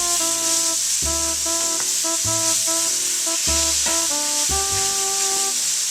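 Liver frying in a pan just after flipping gives off a steady, loud broadband hiss, nearly unbroken throughout, with tonal background music underneath.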